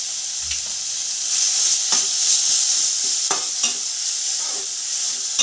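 Ginger-garlic paste masala sautéing and sizzling steadily in a pan for a fish curry, with several sharp spoon scrapes and stirring knocks against the pan, close and fairly loud, with no talking.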